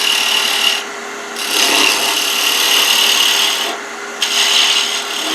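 A beading and parting tool cuts wood on a lathe while turning a chess pawn, giving a loud hissing scrape in two long passes, each separated by a quieter stretch of the lathe running alone.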